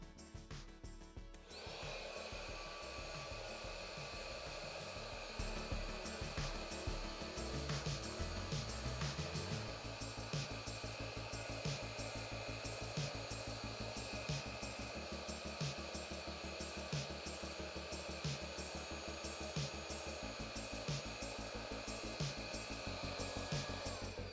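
A small air pump in a gas leak monitoring setup runs steadily, pushing air through pipes with a continuous whirring hum and a faint rhythmic pulsing, close and alone.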